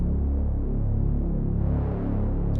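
A dark, muffled synthesizer drone from a GForce OB-X with filter turned down, low and thick with rolling, slowly pulsing tones and little brightness.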